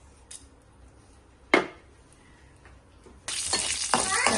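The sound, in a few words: mustard and fenugreek seeds sizzling in hot oil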